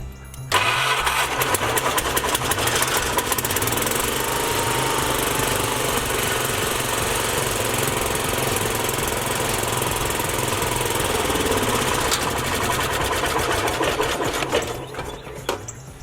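A tractor engine cranks, catches, and settles into a loud, steady running chug up close, the rapid putter continuing until it cuts out near the end.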